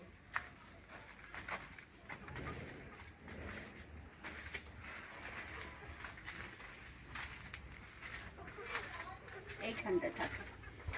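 Hens cluck at a hen house, scattered and close, amid rustling and footsteps on uneven ground, with someone calling to them at times.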